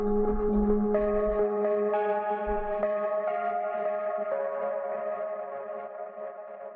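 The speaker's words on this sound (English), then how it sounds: "Created by rubbing the edge of a big church bell with a stone." A stone rubbed around the edge of a big church bell draws out a sustained, shimmering drone of stacked ringing overtones, with new tones swelling in over about seven seconds before slowly easing off.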